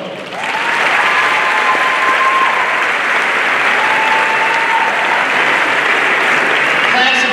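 At a high school graduation ceremony, a large crowd swells into loud, sustained applause for supporters, the clapping dense and continuous, with faint cheers and voices scattered through it.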